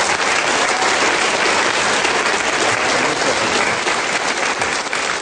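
Dense, steady applause from a studio audience at a Slovak quiz show fills the room for several seconds, loud and close, with no voices over it.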